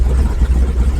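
A 1955 Chevy hot rod engine runs with a deep, steady low rumble, close and continuous for about a second.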